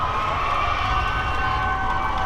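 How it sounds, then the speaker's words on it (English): Hometown crowd cheering at a disc game, the ultimate frisbee nationals quarterfinal, a steady sustained roar of voices and whoops from the stands with no pause. "Hometown crowd liking that."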